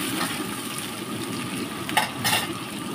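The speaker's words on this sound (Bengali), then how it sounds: "এই দেখো এখন আমি তেজপাতাগুলো দিয়ে দিলাম, দিয়ে এখন এটা এখন ভাজা ভাজা করে নেব ততক্ষণ।" Onion and bay leaves fry in oil in a pan, a continuous close, fairly loud crackling sizzle with faint stirring movement and a brief louder spatter near the end, and no voices.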